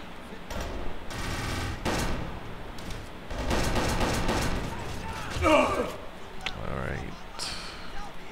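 Gunfire from shooting enemies in the game Kane and Lynch 2: repeated bursts of shots in several loud stretches with mechanical clatter, under frequent talking.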